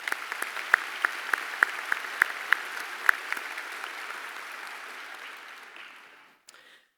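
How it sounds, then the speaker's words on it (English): A steady wash of applause from a high school graduation audience, with a few sharp individual claps standing out, gradually fading away near the end. "If we could we give them a round of applause?"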